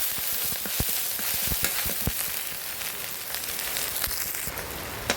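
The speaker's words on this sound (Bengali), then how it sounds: "অনেকটা গরম হয়ে গেছে, পেঁয়াজ দিয়ে দিলাম। এটা অল্প নেড়ে চেড়ে নিব।" Onions sizzle in hot oil with ginger and garlic paste for a fish curry, giving a steady, close frying hiss dotted with sharp pops and crackles, with no speech.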